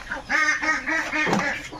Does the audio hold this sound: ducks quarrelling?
yes